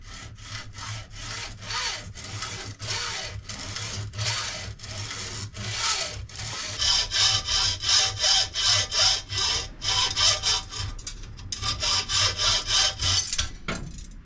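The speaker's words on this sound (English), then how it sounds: "So I'm just going to have to use quite a big hacksaw." A big hacksaw cuts through a copper motorcycle fuel line in a workshop: loud, close, rhythmic back-and-forth strokes that keep going steadily, with no speech.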